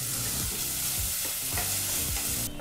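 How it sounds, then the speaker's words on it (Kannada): Finely chopped onion with kasuri methi frying over a medium flame in a pan, with a steady sizzle throughout and repeated scraping strokes of a spoon stirring the mixture. "ಈಗ ಈ 3 ಪದಾರ್ಥಗಳನ್ನು 2 ರಿಂದ 3 ನಿಮಿಷ ಮೀಡಿಯಂ ಫ್ಲೇಮ್ನಲ್ಲಿ ಫ್ರೈ ಮಾಡ್ಕೋಬೇಕಾಗುತ್ತೆ"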